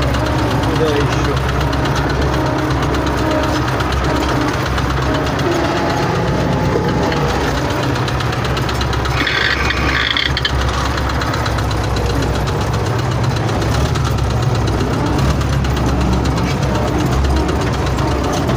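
An engine runs steadily, knocking and idling-like, while a vehicle drives about a vegetable garden being fertilized; the loud continuous drone fills the whole stretch, with a voice speaking over it.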